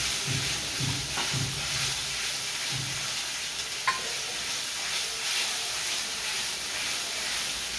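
Green chili paste stirred into a hot pan, giving a steady soft sizzle and hiss with a few gentle scraping stir strokes near the start and a small clink midway.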